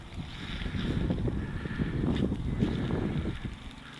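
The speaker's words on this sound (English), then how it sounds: "Quite a bit of wind." Steady wind gusting across an open hilltop beside a church, a broad continuous low rumble of wind buffeting the microphone with no speech.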